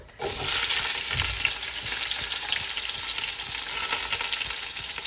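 Onion frying in hot oil with whole spices for Fiji-style lamb shank pulao, a loud, dense sizzle that bursts in suddenly and holds steady with crackles and light stirring, no talk.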